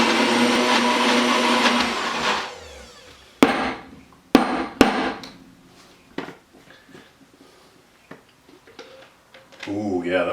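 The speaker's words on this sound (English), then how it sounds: "I cut the grinding part of it down so you're not sitting there having to watch me grind this" A food processor grinds green olive tapenade in a loud, dense whir for about two seconds, then stops; sharp clacks and knocks of the bowl and lid follow, with a short motor burst near the end.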